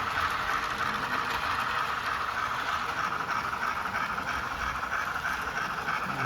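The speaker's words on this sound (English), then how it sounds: "I run a little passenger train here." A small brass model passenger train rolls steadily along its track, a continuous low rumble and clatter with a faint hum, no voices.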